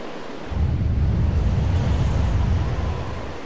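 Steady rush of wind and ocean waves at sea in The Legend of Zelda: The Wind Waker HD, a broad low roar that swells in after a quiet start and holds evenly, fading slightly at the end, with no talking.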